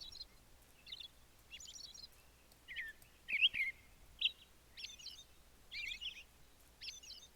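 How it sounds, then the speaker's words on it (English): American robin calls and chirps repeat at short intervals across the clip, moderately near, with light background hiss and no talking. "These guys are American robins. But they eat worms."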